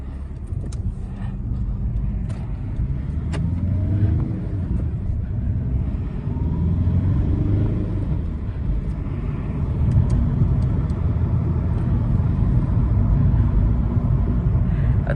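A 2012 Volkswagen Golf TDI diesel with a six-speed manual gearbox drives along, giving a steady low rumble of engine and road noise that swells slightly midway and holds at an even, close level throughout.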